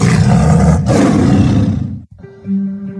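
A loud tiger roar sound effect, used as a broadcast sting for college sports, a long rough growl that cuts off abruptly, followed by a short sustained tone.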